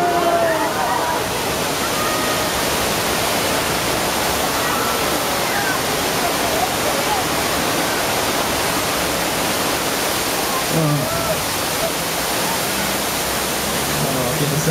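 A constant loud rush of water gushing from a burst water main fills the scene, broad and unbroken, with faint voices briefly audible beneath it.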